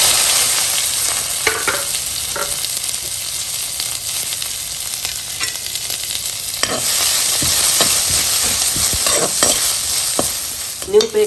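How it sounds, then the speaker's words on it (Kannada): Chopped onions hitting hot oil with ginger and curry leaves, giving a loud, steady sizzle close by. Brief utensil scrapes and stirring knocks break through it now and then. "ಈಗ ಕಟ್ ಮಾಡ್ಕೊಂಡಂಥ ಈರುಳ್ಳಿಯನ್ನು ಹಾಕ್ಕೊಳ್ತೀನಿ"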